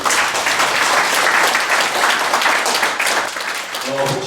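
A seated audience at a Korean Buddhist forum claps warmly for a lecturer, dense, sustained applause that thins out near the end as a voice begins.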